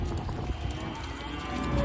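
Recently weaned calves bawl for their mothers on a farm, a steady chorus of loud, overlapping moos that carries on without a break.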